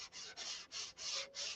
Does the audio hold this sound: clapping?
no